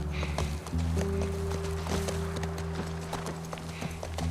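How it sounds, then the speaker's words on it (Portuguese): A horse's hoofbeats thud in a steady riding rhythm in The Last of Us, mixed with a low sustained tonal drone and a few sharper knocks. "Que legal, cara, andar a cavalo."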